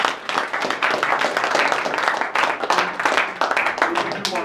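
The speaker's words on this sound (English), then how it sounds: "give him a nice round of applause." Audience applause at a speaking engagement: a burst of many hands clapping at once, dense and fairly loud, holding steady across the whole stretch.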